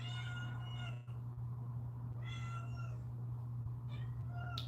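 A cat meows several times, drawn-out and moderately near, over a steady low electrical hum in a quiet home.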